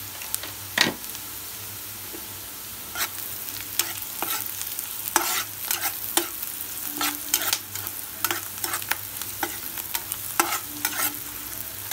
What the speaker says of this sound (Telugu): సో బాగా బ్రౌన్ కలర్ లో ఫ్రై అవ్వాలి మొత్తం ఇది